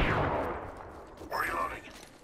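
Gunfire in the battle royale game Apex Legends during a firefight near the closing ring, heard as a short burst of shots with echo followed by a rising, sweeping electronic tone, at moderate loudness.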